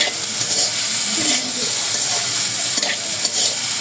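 Vegetables fry in a pan with oil, a loud continuous sizzle and hiss, broken by occasional scraping stirs of the spatula.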